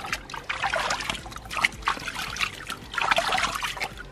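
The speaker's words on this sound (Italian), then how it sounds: "Ma è calda, Gioia, quest'acqua qua" Water trickling and splashing while a dog is bathed, irregular close dribbles and pours in bursts with no talk over them.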